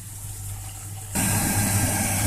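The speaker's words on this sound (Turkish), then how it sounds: "Bu arada da fasulyemi süzdüreyim." Water suddenly gushes and splashes steadily as boiled beans are poured into a strainer over a kitchen sink, following a quieter moment of faint background hum.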